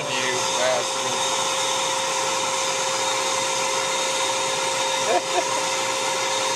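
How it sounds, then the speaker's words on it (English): A vacuum runs on a Presto K8 record cutting lathe while it cuts a plastic picnic plate record, a constant close whine with steady tonal hum and a brief bump near the end. "Here's where I use the vacuum."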